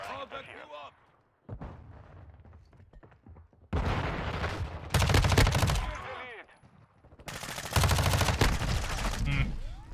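Gunfire in Call of Duty Modern Warfare 2 multiplayer, with loud sustained automatic bursts crackling in two long stretches, alongside fainter shots and a player talking over the action.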